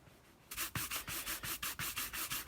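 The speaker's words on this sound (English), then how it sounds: "when polishing leather, what you're looking for is friction, not speed, or not pressure" Leather being polished by hand, a steady run of about a dozen rhythmic rubbing strokes that start abruptly after a short quiet pause, each a close, dry swish with no voices.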